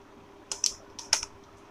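Keystrokes on a computer keyboard while entering HTML list items, in two short bursts of a few crisp clicks each, close and fairly quiet, with no talking.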